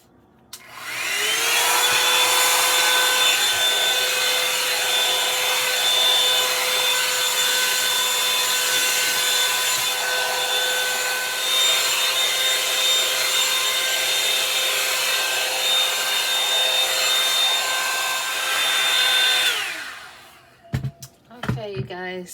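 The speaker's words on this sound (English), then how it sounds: "I am going to go ahead and get my dryer and start blow drying" A hair dryer blows hair dry in a steady, loud whirring hum with a high whine that holds for about twenty seconds, then cuts off, followed by a few faint handling clicks.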